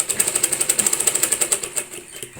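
A home sewing machine runs in a fast, even burst of needle strokes while stitching a fall onto a saree. The rhythmic clatter is close and clear, then slows and stops near the end.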